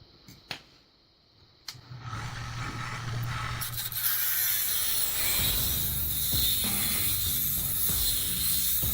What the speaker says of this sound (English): It takes a little bit to grind this down.